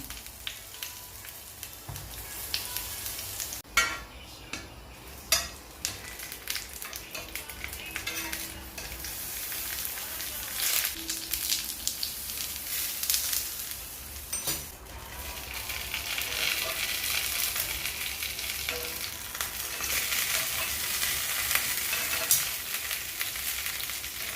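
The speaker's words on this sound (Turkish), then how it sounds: "Şimdi çok az yağ ile közleme tadında hafif kızartacağım." Steady sizzling of eggplant frying in a little oil in a pan, a dense crackling hiss that builds slightly louder over time, with a few clinks of a utensil early on.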